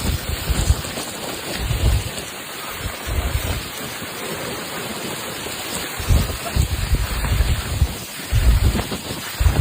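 Heavy thunderstorm in eastern Slovakia near Bardejov, with a constant hiss of pouring rain and repeated deep rumbles of thunder rolling in bursts throughout.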